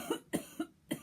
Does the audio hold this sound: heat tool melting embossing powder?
no